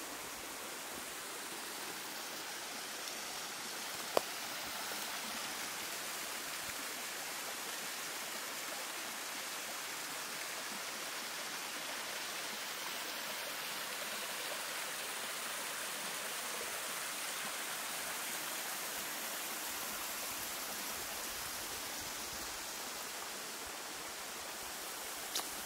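Steady running water from a stream at a backpacking water source in Butano State Park in mid-April, a continuous broadband rush heard alone, fairly close and even throughout with no talk.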